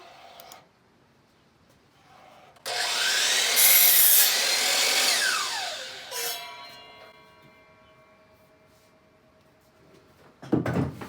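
Chop saw slicing through a rough cut lumber ladder rung for a tree house, a loud close whine and cutting rasp lasting a few seconds, then the blade spinning down with a fading hum and a clunk at the end.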